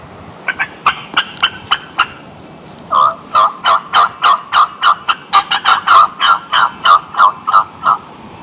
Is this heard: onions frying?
no